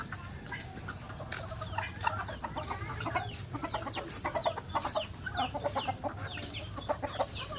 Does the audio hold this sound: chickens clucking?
yes